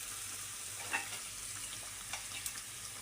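Egg and tomato cooking gently on low heat in a covered pan, a soft steady sizzle with a few faint clicks and stirs, quiet and close.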